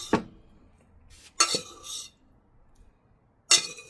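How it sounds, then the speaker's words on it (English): A utensil clanks and scrapes against a nonstick pan as Indomie Mi Goreng fried noodles are moved over, in three or four short, sharp metallic bursts separated by quiet gaps. "I know somebody's going to say you're scratching up your nonstick pan"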